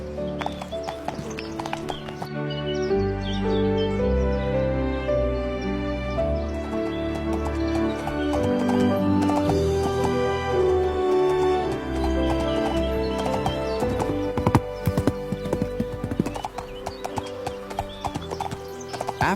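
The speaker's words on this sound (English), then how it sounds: "mounted her horse, and began her journey to her bridegroom" A horse's hooves clip-clop in a steady rhythm as a princess rides off, with the hoofbeats heard beneath continuous music for the whole stretch.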